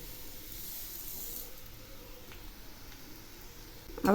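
Lentils go into hot frying rice in a pan: a steady, faint hiss runs throughout, then a sudden louder sizzling burst breaks in at the very end.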